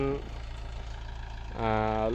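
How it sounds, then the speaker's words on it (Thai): A Taleethong TR40 4WD tractor's four-cylinder engine runs with a steady low hum and rumble, while a voice speaks briefly at the start and again at the end. "นี้เป็นเครื่องยนต์ 4 สูบ ขึ้น 2 ลง 2 ลูกสูบคู่ นิ่มกว่ารถไม่กระพือไม่สั่น"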